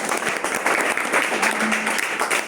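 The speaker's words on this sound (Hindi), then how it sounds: "तो एक जोरदार ताली आप लोगों के लिए बनता है" Applause from a class, a short burst of loud, dense clapping that lasts the whole moment without any speech over it.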